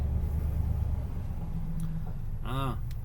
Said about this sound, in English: That's the noise of the truck.